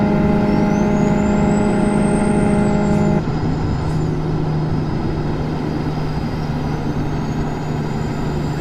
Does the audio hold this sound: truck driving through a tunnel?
yes